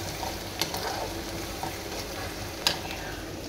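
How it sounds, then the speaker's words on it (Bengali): Onions frying in oil to make beresta for haleem, a steady close sizzle with a few brief louder crackles and stirring clinks, no talk. "বেরেস্তা ভেজে নিচ্ছি।"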